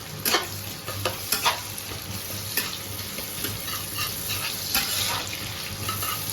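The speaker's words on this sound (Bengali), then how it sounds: "জাস্ট একটু হালকা ফ্রাই করবো।" Spices sizzle lightly in a pan during preparation for tomato dal, a steady hiss broken by a few scraping stirs of a spoon.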